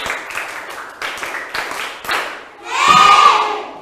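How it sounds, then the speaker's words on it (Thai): Primary school students in a Thai math class clap a short set of patterned claps, sharp bursts of many hands in rhythmic groups, followed by a brief swell of cheering voices. "ปรบมือ1ชุดค่ะ"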